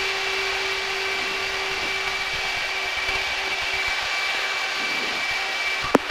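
A Blue Angels jet taxiing, heard from inside the cockpit as a steady, loud engine roar and whine with a constant high tone, ending in a brief click.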